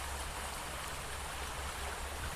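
A mountain stream flows steadily, a continuous rushing water sound, close and even throughout with no voices.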